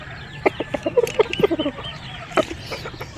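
Wet chickens and chicks in a Filipino backyard flock after morning dew, clucking in a quick irregular series of short calls, fairly close, with a softer cluck near the end and no talking.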